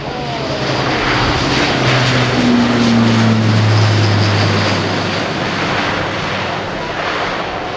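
An Airbus A400M airlifter with four TP400 turboprop engines flies a display at RIAT 2018. A loud, sustained propeller drone rolls past, its tones shifting as the aircraft moves.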